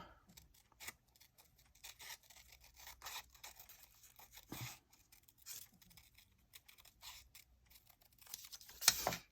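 Scissors cut something out at a desk: quiet, irregular snips and paper rustles, close by but faint, with short pauses between cuts.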